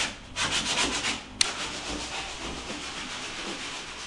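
Wood is sanded by hand with sandpaper during finishing work, a close, rough rubbing in quick back-and-forth strokes that continues steadily.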